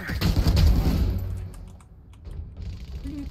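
Bursts of gunfire in a multiplayer shooter game ring out loud and close, dense shots crowding the first second or so before thinning into scattered pops and a lingering tail.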